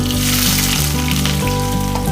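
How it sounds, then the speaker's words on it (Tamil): Onions sizzle and crackle loudly in hot oil, a continuous close-up frying hiss with steady popping throughout. "இப்போ நான் வெங்காயத்தை போட்டுக்கலாம்."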